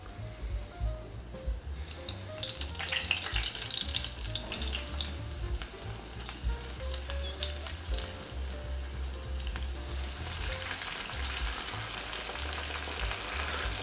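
Steady, loud sizzling and crackling of breaded shrimp deep frying in hot oil, continuous throughout with bubbling texture and no talking.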